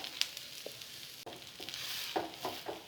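Tapioca adai frying in a pan, soft sizzling and crackling with a few light scraping clicks, quiet and close over a few seconds.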